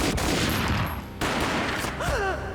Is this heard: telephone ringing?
no